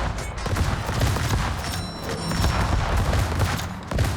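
Secondary battery guns fire in rapid, overlapping bursts during World of Warships play, a dense continuous barrage of booms and thumps, loud and without talk.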